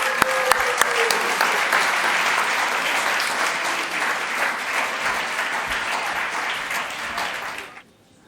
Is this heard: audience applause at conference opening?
yes